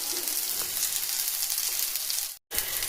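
Peas sizzle steadily in hot oil with panch phoron and a pinch of hing, a dense continuous frying hiss close by, broken by a brief silent gap near the end.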